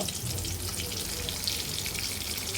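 Hilsa fish pieces frying in oil in a pan, a dense, bright hissing sizzle that runs evenly and fairly loud for the whole stretch, with no talk.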